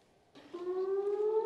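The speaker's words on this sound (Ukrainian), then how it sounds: "Над Ізраїлем лунає сирена" An air-raid siren sounds across Israel during a Holocaust remembrance day, a steady rising wail that swells in after a brief quiet start and holds loud and sustained.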